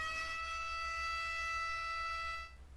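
An emergency siren in a Factory IO factory simulation blares as one steady, loud electronic wail with a bright tone, holding constant for over two seconds before cutting off abruptly.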